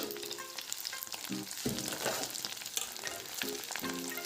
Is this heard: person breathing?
no